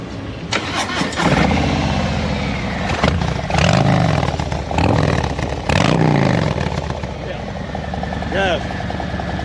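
A 2023 Harley-Davidson Road Glide with an aftermarket Khrome Werks exhaust fires up and revs repeatedly, loud and close, its throaty exhaust rising and falling in several bursts before settling into a rumbling idle.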